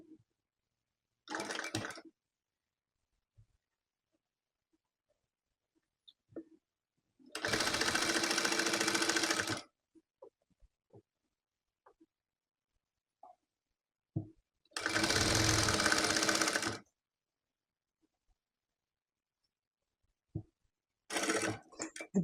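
A sewing machine stitches a blue baby jumpsuit in four separate close, steady bursts of whirring, with quiet pauses and faint handling noises between runs.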